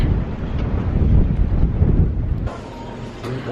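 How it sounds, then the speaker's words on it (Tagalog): Strong wind buffets an outdoor microphone in cold weather, a loud continuous rumbling roar that eases a little partway through, with no voices. "It's windy."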